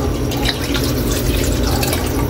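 Water is poured into a cooking pot for pancit, giving a steady, loud, continuous splashing and rushing wash that fills the whole moment without a break.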